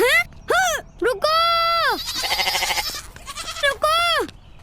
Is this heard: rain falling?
no